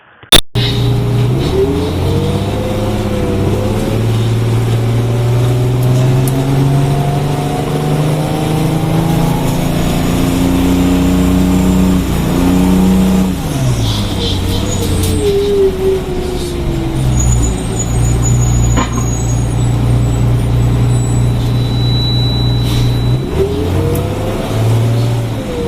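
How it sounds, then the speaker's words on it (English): Close, loud rumble of a 1981 GMC RTS city bus with a Detroit Diesel 6V92 engine pulling away, its bassy drone climbing in pitch through repeated acceleration, with an air brake hiss near the start. "they signified the use of the Detroit Diesel 6V92 engine, but these had a really distinct bassy sound along with a really fast and distinct acceleration"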